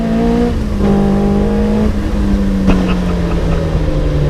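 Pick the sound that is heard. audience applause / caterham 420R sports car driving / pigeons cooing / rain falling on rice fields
caterham 420R sports car driving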